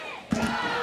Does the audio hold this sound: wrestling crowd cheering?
yes